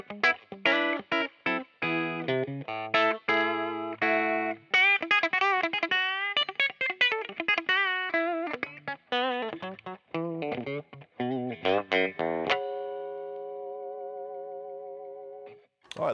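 Clean electric guitar, a Fender American Vintage 1962 Jazzmaster with thin-skin finish, played without distortion, a quick run of plucked notes and chords ending on a long ringing chord that fades out.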